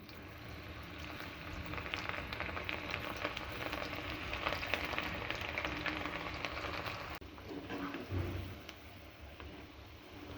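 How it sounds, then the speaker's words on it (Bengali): Batter-coated cauliflower popcorn fries in hot oil, producing a steady, soft, rain-like crackling hiss that runs throughout with small pops and a slight shift near the end. "ফুলকপির পপকর্নগুলোকে ভেজে নিচ্ছি, লাল লাল করে ভেজে নিব"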